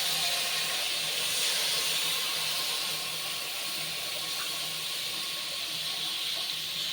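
Mustard paste stirred into water is poured into a hot pan of hilsa fish curry with brinjal, giving a steady close hiss of steam and sizzle that holds without a break and with no talk.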